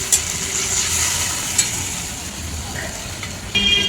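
Spice masala sizzles in a pan with potatoes as water is added and stirred, a steady hiss with scraping stirs and a sharp burst near the end, loud and close, with no talk.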